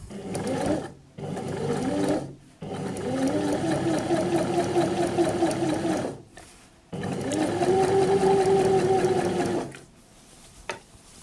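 A sewing machine understitching bias binding close to the folded edge on a neckline runs in several loud, whirring bursts of varying length, separated by short pauses, with no talk over it.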